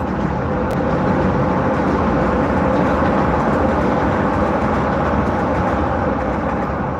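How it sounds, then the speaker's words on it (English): A New York City L subway train roars past close by, a loud, steady rumbling clatter that fills all seven seconds without letting up. "That L train is so loud."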